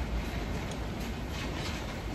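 A metro train in Korea rumbles loudly nearby, a continuous heavy roar of wheels on rails with a faint high whine above it.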